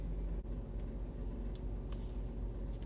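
Steady low rumble inside a moving car, with road and engine noise droning evenly throughout and a couple of faint brief clicks, no talking.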